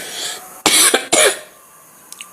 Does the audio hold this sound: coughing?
yes